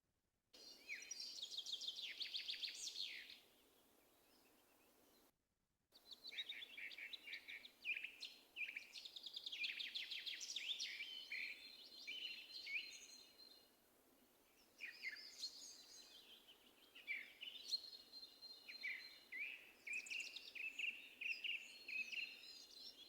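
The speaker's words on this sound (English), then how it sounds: "I'm going to start the birdsong, and we're just going to start with some birdsong" Recorded birdsong plays softly for a calm relaxation session, with bright chirping and trilling phrases in bursts separated by brief pauses, one short gap of near silence, and no voices.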